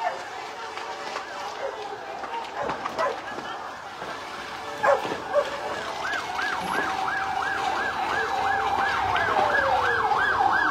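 A fire truck siren wails in a rising-and-falling cycle, growing clearer toward the end, amid dogs barking, passing road traffic and people talking nearby.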